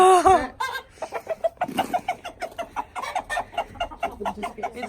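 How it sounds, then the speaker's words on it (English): Many backyard chickens clucking and bawking together inside a coop on a farm, a busy, fairly close chorus of repeated clucks with no talk over it. "Got a whole lot of chooks in here"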